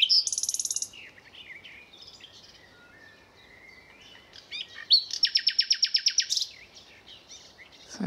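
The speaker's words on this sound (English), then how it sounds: "There's a small bird hopping around in the back of the tree there" A small songbird sings loudly from a bush along a countryside walk between Uckfield and Lewes, with two bursts of rapid, clear, repeated high notes separated by quieter background birdsong.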